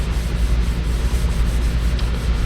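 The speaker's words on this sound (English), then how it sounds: "Then we can set the hood on and finish wet sanding it" Steady, close scraping of wet sanding on the hood of a 1972 Oldsmobile Cutlass, a continuous rubbing rasp with quick back-and-forth strokes and no talking.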